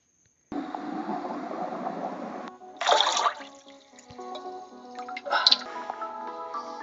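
Water gurgles and drips steadily as it fills a vacuum chamber submerged under water, with a brighter burst of bubbling splashes partway through and trickling continuing after.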